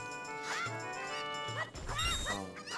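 Dog barks from The Legend of Zelda: Ocarina of Time, short synthesized yips repeating over looping game music with a steady background.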